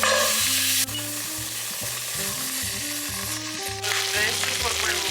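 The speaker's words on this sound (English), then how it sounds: "I want to braise the short ribs first and then put the beans in after" Beef short ribs sizzle and fry loudly in a pot at the start of a braise for bean soup with beef, a dense, continuous crackle close up that carries on for several seconds without talk.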